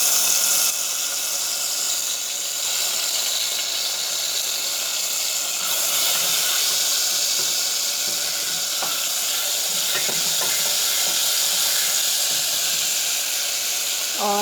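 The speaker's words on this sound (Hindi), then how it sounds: "तेल गरम होने के बाद मैं इसमें लहसुन डालूँगी पिसा हुआ।" Ground garlic sizzling in hot oil in a home kitchen, a steady, bright, close hiss that runs unbroken throughout, with a few faint clinks of a utensil near the end.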